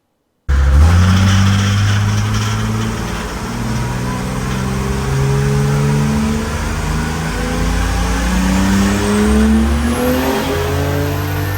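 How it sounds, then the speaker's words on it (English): A 1952 GMC fitted with a Mercedes diesel engine and a quick spool valve turbo starts up abruptly and runs loud and close, its tone climbing and shifting steadily as the engine is revved up under load. "Third test, we're gonna try the quick spool valve turbo only and this box removed"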